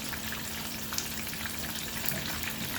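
Shrimp fried rice with Worcestershire sauce sizzles in a pan during a stir fry, a continuous soft crackling hiss at moderate level with no voices.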